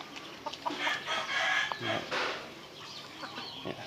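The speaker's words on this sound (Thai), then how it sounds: "อันนี้ก็เป็นไก่นะครับ ก็เลี้ยงคู่กันนะครับ" Chickens raised alongside ducks cluck on a small farm, with a scatter of soft clucks and an occasional distant crow. A person talks faintly in the background.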